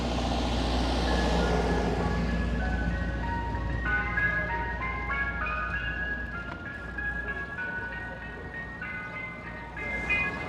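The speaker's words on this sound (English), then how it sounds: "Ice cream truck, yes." An ice cream truck passes on a Bronx street, its chiming jingle melody ringing out steadily over loud traffic rumble, fairly near and continuous throughout.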